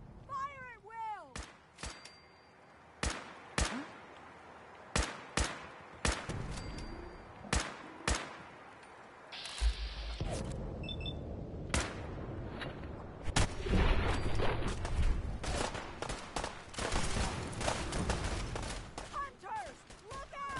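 Gunfire in a film battle scene against fog-bound raiders, loud sharp shots cracking out one by one, then dense continuous volleys and rumbling blasts, with shouting voices and animal-like cries mixed in.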